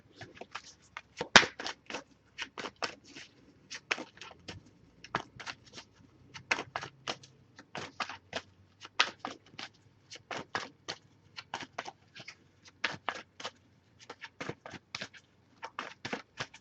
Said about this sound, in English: I pre-shuffle this deck, but here I'm just looking for one card,